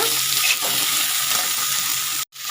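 Chillies, tomato, ginger, garlic and onion sizzle together in hot oil in a pan, a constant close hiss that cuts out abruptly near the end before resuming.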